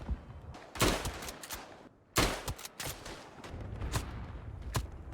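Rapid gunfire in the World War I shooter Tannenberg, several loud, sharp bursts and single shots fired at uneven intervals, some near and some farther off, over a constant battlefield rumble with no talking.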